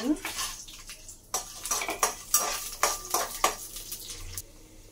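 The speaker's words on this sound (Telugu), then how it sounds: "ఇలా బాగా ఫ్రై చేయాలి" Vermicelli is stirred and fried in a metal pan, producing close, repeated scraping and clinking strokes in an uneven rhythm over a faint sizzle.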